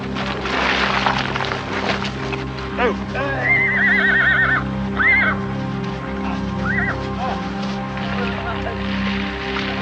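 Horses whinny loudly several times over a steady rumbling background, with shuffling movement and a voice talking underneath.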